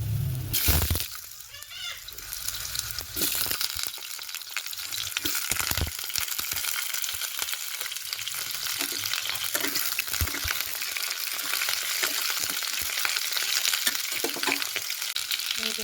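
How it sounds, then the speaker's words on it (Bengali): Cauliflower and potato pieces fry in hot oil with panch phoron in a pan, giving a steady, loud sizzle with occasional stirring scrapes throughout, no voices. "এখন আলু ফুলকপিটা একটু ভাজা ভাজা হচ্ছে।"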